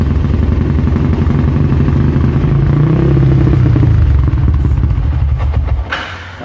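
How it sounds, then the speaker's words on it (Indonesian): Yamaha R25 motorcycle engine revs hard close up, a loud throbbing exhaust that rises and falls through several blips before cutting off near the end. "suaranya pasti lebih kedengeran mesinnya karena emang CC-nya juga lebih gede gitu loh ya"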